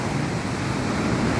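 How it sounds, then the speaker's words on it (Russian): Surf breaking on a beach in Sri Lanka under the midday sun, a steady broadband wash of waves with some wind buffeting the microphone, continuous and fairly loud with no talk. "Бушующее море."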